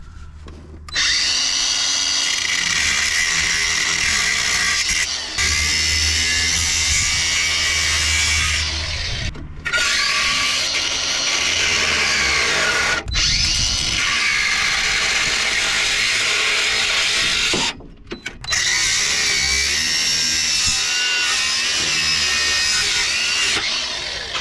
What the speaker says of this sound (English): my angle grinder with a cutting wheel on it